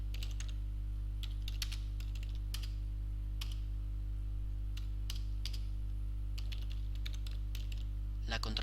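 Close, brisk clatter of keys on a computer keyboard as the ssh-keygen command is typed, in quick uneven bursts over a steady low electrical hum.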